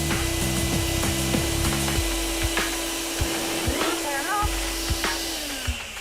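A household vacuum cleaner sucks the air out of a plastic storage bag with a steady motor whine and hiss, while rubbing and crinkling sounds and light knocks come and go over the full six seconds.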